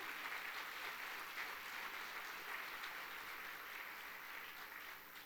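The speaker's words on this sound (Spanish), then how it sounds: "démosle ese fuerte aplauso al Señor" A church congregation applauds during a worship service, a steady wash of many hands clapping that sounds distant and fairly faint and carries on evenly for several seconds.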